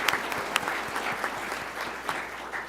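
A small audience at a city council reorganization ceremony claps steadily for outgoing and incoming school board members, a dense even patter of hands in a room with no voices over it.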